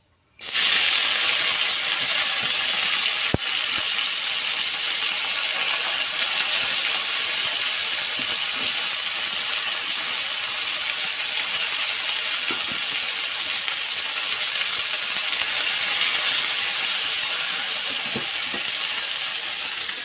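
Khusengra sizzles steadily as it fries in a pan, a bright, even hiss that holds close and loud from start to finish, with only faint clinks of stirring now and then.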